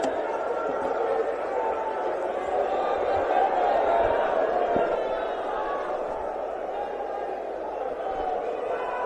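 At a political gathering, a large crowd roars and claps in a steady, dense wash to welcome a speaker to the stage, loud and continuous throughout.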